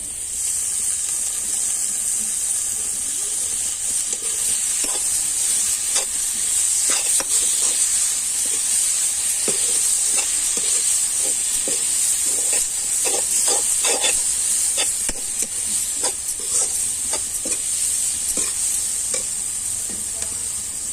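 Spinach and fenugreek leaves frying with mutton in a pan give a steady, loud sizzle with frequent scraping stirs throughout, no voices.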